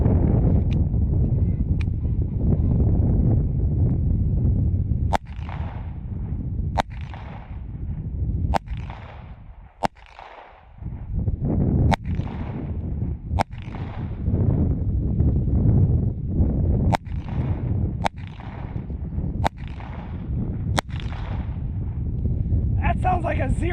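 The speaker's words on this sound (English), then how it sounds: "I got 30 rounds for the Walther P22 short barrel" Walther P22 short-barrel pistol fired outdoors at a 50-yard target, a string of about ten sharp cracks spaced a second or two apart, standing out over steady heavy wind rumble on the microphone.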